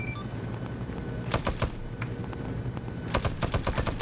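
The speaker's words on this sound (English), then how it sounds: "he's just going to shoot the M60 over" An M60 machine gun in a Vietnam-era military game fires in short rapid bursts, sharp and close, with quieter background rumble between the volleys.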